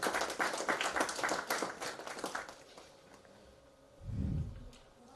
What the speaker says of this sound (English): I would like you all to give a round of applause for our Pawan Goenka sir.